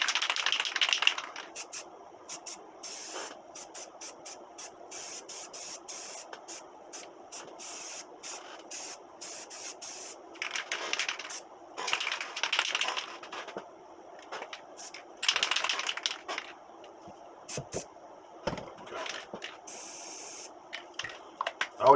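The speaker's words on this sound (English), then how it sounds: "spray it for a few seconds until it's clear." Short and longer bursts of hiss from a spray paint can held upside down to clear the nozzle, loud and close, irregular with brief pauses between sprays and no talking.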